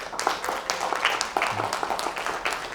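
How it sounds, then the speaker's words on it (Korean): An audience in a chapel gives encouraging applause for children, a soft, fairly distant patter of scattered clapping that continues steadily without voices. "우리 수고하고 있는 아이들에게 격려의 박수를 한번"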